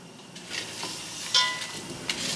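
Rice toasts in a pan for risotto with onion cooking in a well at the centre, giving a steady sizzle and crackle with a few spoon scrapes and clinks.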